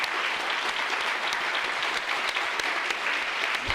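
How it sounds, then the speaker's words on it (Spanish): An audience applauds a professor at the end of a conference talk, a dense, steady round of many hands clapping at moderate volume throughout. "le damos un fuerte aplauso también al profesor por esta ponencia"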